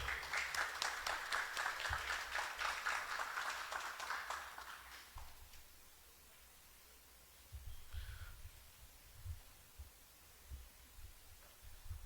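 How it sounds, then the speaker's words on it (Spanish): An audience at a multidisciplinary seminar applauds to welcome a speaker: dense, steady clapping for about five seconds that then dies away, leaving a quiet room with a few soft low thumps. "recibirlo con fuertes aplausos"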